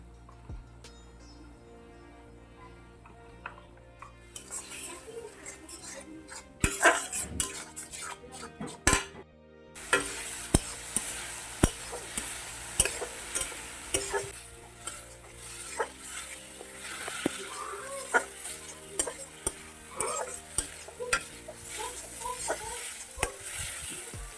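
Potatoes sizzling in oil in a pan with salt, turmeric, cumin and chili powder, stirred with a utensil that scrapes and clinks repeatedly against the metal over a steady frying hiss.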